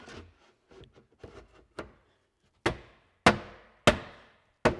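A rack slides into a cabinet onto locking studs. A series of sharp, close knocks and clunks starts as soft taps and builds to several louder, ringing thuds spaced about half a second apart, with no talk.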